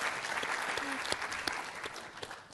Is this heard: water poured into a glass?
no